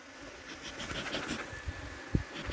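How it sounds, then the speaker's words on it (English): Honey bees buzzing around an opened hive, a faint close hum with scratchy movements and a sharp knock near the end. "I have to wait until them bees quiet down"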